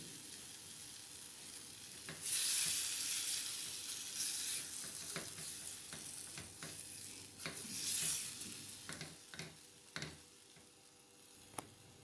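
Chicken tikka being stirred with yogurt in a pan over low heat, a soft continuous sizzle under wet squelching stirs and occasional clinks of a spoon against the pan, with no talking.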